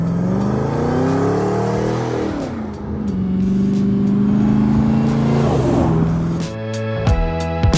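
A 1993 Land Rover Defender 110 soft top fitted with a 6.2-litre 650-horsepower GM LT4 V8 and 8-speed automatic drones and revs steadily, its pitch rising and falling, loud and close, ending with sharper bursts.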